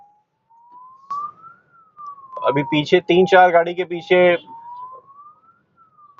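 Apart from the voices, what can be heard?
ambulance siren in traffic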